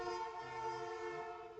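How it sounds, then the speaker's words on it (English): A train passes near a sports venue, its long sustained horn blast holding steady with a low rumble beneath, no talk over it. "So train goes past."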